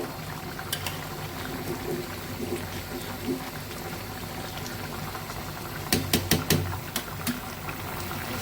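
Vegetable curry boiling in a pot makes a soft, steady bubbling and simmering close by, with a few sharper clinks and taps near the end.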